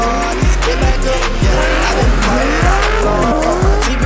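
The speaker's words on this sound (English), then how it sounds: "tak ještě jedu pojezdit a hezky to klouže, je mokro" Drift car sliding on a wet track at Ostrava Libros, its engine roaring loudly and close with repeated gear shifts and rising revs, tires hissing and squealing throughout.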